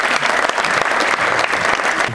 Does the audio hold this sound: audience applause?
yes